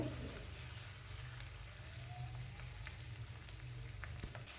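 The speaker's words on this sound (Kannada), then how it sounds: "ನೋಡಿ ಇಲ್ಲಿ ಬದನೆಕಾಯಿ ಹಾಕ್ಕೊಂಡಿದ್ದೀನಿ ಇವಾಗ ಫ್ರೈ ಮಾಡ್ಕೊತೀನಿ" Brinjal fries in oil in a pan with a faint, continuous crackling sizzle and a few scattered sharp pops, heard alone without speech.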